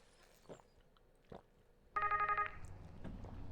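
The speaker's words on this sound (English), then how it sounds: "Phone." An old-style telephone rings in the Gone Home video game, a bright repeated bell burst that starts abruptly and gives way to a steady, fuller tone, loud against a quiet room with faint footsteps before it.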